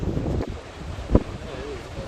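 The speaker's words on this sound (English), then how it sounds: "but yeah, it's gonna sound windy." Steady wind from a winter storm on the shore of Lake Superior, Minnesota, rumbling against the microphone, a low buffeting roar throughout with a brief thump partway.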